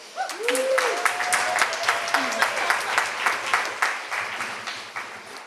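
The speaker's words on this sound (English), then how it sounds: "I want to hear a huge round of applause for our child care provider, Alessandra Helgoy" An audience at an afternoon panel discussion applauds a child care provider, a moderate round of clapping with distinct individual claps, mixed with a voice and a whistle-like tone early on.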